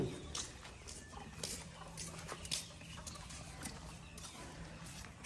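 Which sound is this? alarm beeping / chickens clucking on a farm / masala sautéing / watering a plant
chickens clucking on a farm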